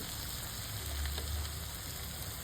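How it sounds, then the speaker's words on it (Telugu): Salt and chili powder frying in hot oil in a pan for an ivy gourd curry, a faint continuous sizzle with a few soft stirring bumps. "ఇప్పుడైతే మనం నూనెలో ఉప్పు కారం వేసుకుందాం"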